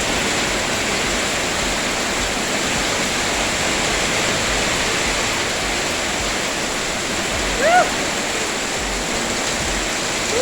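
Heavy rainstorm in Africa pours down as a dense, steady roar of rainfall that stays loud and even throughout, with a brief faint voice near the end.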